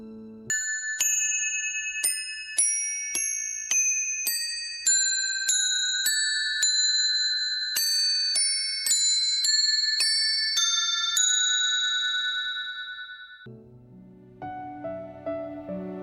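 Bronze bells ringing in a steady sequence of bright, resonant strikes roughly every half second to second, each ringing on with long overlapping tones before fading, then a softer lower tone at the end.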